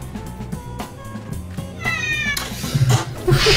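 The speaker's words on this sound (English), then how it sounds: "Cat, stop meowing!" A cat meows repeatedly in a room where a Divinity: Original Sin game plays, the rising cries standing out over the game's music and effects, with a louder meow near the end.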